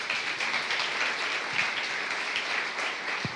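A church congregation gives steady, even applause throughout, dense and moderately loud, with no pauses or talk over it.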